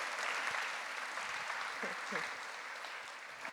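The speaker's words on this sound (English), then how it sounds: "everybody give a round of applause for Jeff." An audience claps in a sustained round of applause, a dense, steady patter that fades slightly toward the end, with a few voices briefly audible underneath.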